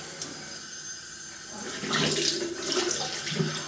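Cold water runs and splashes from a tap, with bursts of splashing as hands scoop and rinse the face, fairly close and alone.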